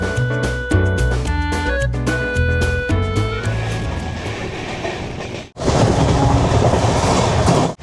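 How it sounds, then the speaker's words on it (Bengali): A Humsafar Express passenger train heard from on board: a few stepped tonal notes open into a loud, steady rumble and rattle of running wheels, cut by a brief dip before the roar returns. No voices. "এই হামসফর এক্সপ্রেস কিন্তু খুব সুন্দর চলে"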